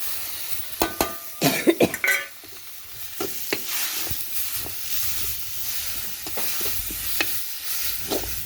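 Curry leaves and coriander frying in a hot pan for bitter gourd curry, a loud burst of crackling and spitting at first, then a softer steady sizzle broken by occasional stirring scrapes, close and without talk.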